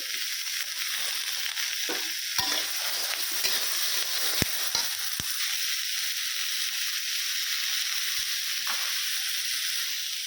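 Tomato and cucumber frying in a pan while being stirred, a soft continuous sizzle broken by several sharp clicks and scrapes of a utensil against the pan.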